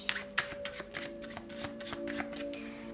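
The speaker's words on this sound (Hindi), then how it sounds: "तो चलिए शफल कर लेते हैं सिंह राशि लियो साइन के लिए" A deck of tarot cards being shuffled by hand, with repeated riffling bursts and soft slaps close up over a steady low hum, no voice.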